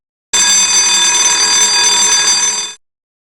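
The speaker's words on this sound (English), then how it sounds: "A security alarm." Store security tag alarm going off, a loud continuous high-pitched electronic tone that sounds steadily for about two and a half seconds and then cuts off.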